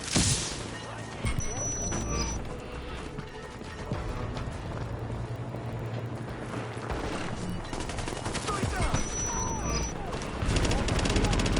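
Gunfire and a grenade explosion in Tom Clancy's The Division, sustained rattling automatic fire with crashing blasts, loud and close throughout, a voice talking over parts of it.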